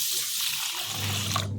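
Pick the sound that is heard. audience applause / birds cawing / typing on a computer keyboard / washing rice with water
washing rice with water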